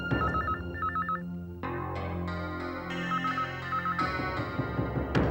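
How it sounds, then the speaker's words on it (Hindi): A landline telephone trills in short warbling rings at a home in a Hindi TV drama, followed by swelling dramatic background music with sharp stings. "मारिया, मारिया, मारिया, मुझे कोई फोन नहीं लेना है। किसी का भी फोन हो कह दो मैं घर पे नहीं हूँ।"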